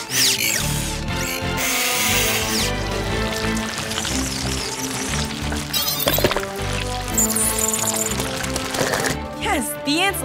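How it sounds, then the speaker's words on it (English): Power drill whirring during a construction rescue in a PAW Patrol cartoon, buried under busy music, sound effects and character voices. "Drill."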